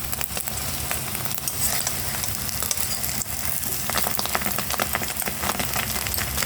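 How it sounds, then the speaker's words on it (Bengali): Egg toast fries in a hot pan after being flipped, a steady close sizzle with scattered crackles and pops running continuously without talk. "অপর পাশটা ভাজা হতে দেবো।"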